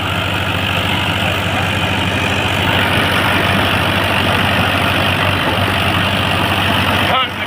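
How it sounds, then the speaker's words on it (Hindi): A tractor engine labours under load during loading, giving a steady heavy low drone that holds throughout and lifts slightly midway, then cuts off sharply near the end. "मौली वाला ट्रैक्टर पक्का जोर लगा रहा है और बस।"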